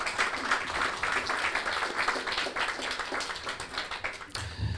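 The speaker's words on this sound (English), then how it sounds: "A round of applause for you guys." Applause from an audience at a community candidate forum, steady dense clapping sustained throughout, fairly even in level and ending abruptly near the close.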